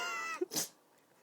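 A cat gives a single sharp sneeze close up, preceded by a brief squeaky vocal sound, then quiet.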